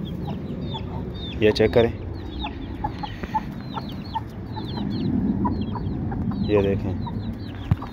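Hens and chicks cluck and peep steadily around a backyard coop, with short bright chirps scattered throughout and someone speaking briefly over them.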